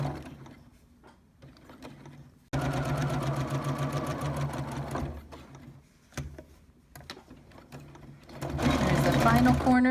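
A sewing machine stitches elastic into a fabric corner in fast, steady mechanical bursts with short pauses between runs, near and fairly loud.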